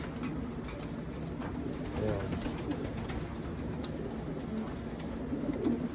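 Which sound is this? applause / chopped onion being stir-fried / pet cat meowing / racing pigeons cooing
racing pigeons cooing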